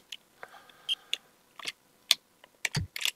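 Computer keyboard typing while playing Sensible World of Soccer: irregular bursts of sharp, close key clicks with brief pauses, alone with no talk.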